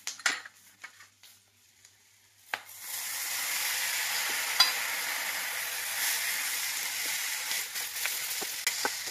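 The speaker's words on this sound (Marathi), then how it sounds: "टमाटा आणि कांदा मऊ होईपर्यंत आपल्याला हे शिजवून घ्यायचं आहे." Tomatoes and browned onion with chillies sizzle steadily in a pan as a spoon stirs them, a continuous close frying hiss after a few quiet scrapes and clinks, with no talking.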